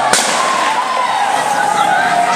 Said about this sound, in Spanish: La cantidad de disparos que se escucharon a lo largo de los dos